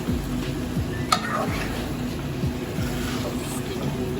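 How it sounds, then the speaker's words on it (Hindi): Potatoes and peas fry in a pan for aloo mongray, a soft, steady sizzle over a low, rhythmic rumble, with one brief clink near the start. "अब हम इसको 1 से 2 मिनट के लिए आलू और मटर को भी भूनेंगे"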